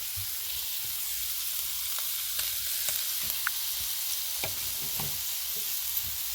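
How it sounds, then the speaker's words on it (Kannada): Six pieces of fish frying in oil in a pan, a steady close sizzle with soft crackles and pops throughout, no voices. "ಈಗ 6 ಪೀಸ್ ಮೀನು ಬಿಟ್ಟಿದ್ದೀವಿ, ಇನ್ನೂ 4 ಪೀಸ್ ಮೀನು ಬಿಡ್ಬೋದು"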